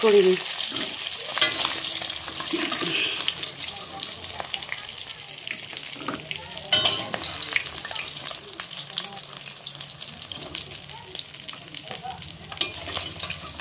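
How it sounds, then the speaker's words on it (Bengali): Fish frying in a pan gives a steady, close, loud sizzle and crackle, with occasional scraping and clinks of a utensil moving the pieces and no talk over it. "এখানে মাছগুলো ভাজা হয়ে গেছে মাছগুলো এখন নামিয়ে নেব"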